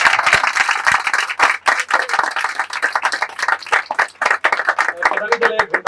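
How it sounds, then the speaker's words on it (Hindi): Church congregation applauding after a sermon, loud, rapid clapping from many hands continuing steadily, with some voices mixed in near the end. "सब प्रभु को महिमा की तालियां देंगे हम।"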